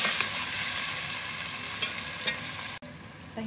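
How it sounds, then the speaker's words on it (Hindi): Yogurt is stirred into chicken in a pot for pulao, a steady close sizzle with soft scraping stir strokes and a brief pause near the end. "दही ऐड कर रही हूँ, मिक्स कर रही हूँ अच्छी तरह से"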